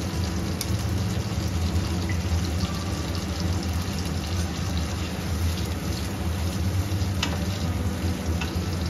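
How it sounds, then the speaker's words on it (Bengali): Spices frying in hot oil for Bengali koi fish curry, a steady dense sizzle and crackle that stays loud and continuous throughout, close up, with no voices. "একটু ভাজা ভাজা হবে, তেল ছাড়বে।"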